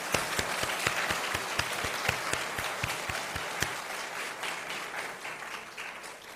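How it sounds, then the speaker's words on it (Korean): An audience gives steady, sustained applause of many hands clapping together at a religious gathering. A few sharper individual claps stand out near the front, and the clapping fades slightly toward the end. "먼저 큰 감사의 박수를 올려드리겠습니다"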